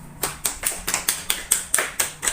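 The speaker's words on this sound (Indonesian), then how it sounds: "Beri tepuk tangan untuk teman kita Putra." Students in an Islamic religious education classroom clap in quick, evenly spaced strokes, about a dozen crisp claps close by with no talking.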